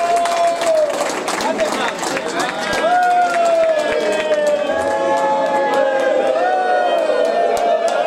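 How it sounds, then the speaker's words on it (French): An audience at a Mauritian political event claps and cheers loudly for a young speaker being introduced, a dense crowd roar with many voices shouting over continuous applause. "Sans plus tarder, à nous applaudir"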